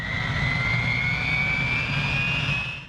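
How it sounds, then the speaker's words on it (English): The K-MAX unmanned military logistics helicopter flies by with a loud, sustained turbine whine and a rumbling low roar, its pitch shifting slightly as it passes. "Meet K-MAX, the unmanned helicopter that's changing the game for military logistics."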